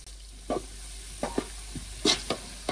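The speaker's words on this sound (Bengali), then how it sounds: "এই সময়টা অবশ্যই পেঁয়াজ নাড়ানোর উপর রাখতে হবে, তা না হলে এক পাশ বেশি পুড়ে যাবে" Onions frying in oil for chicken bhuna khichuri are stirred in a pan, giving a string of separate scraping strokes over a low steady sizzle, close and clear with no talking.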